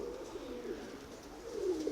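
Pigeons cooing softly in a loft, low murmuring calls over faint background noise, a slightly stronger coo near the end.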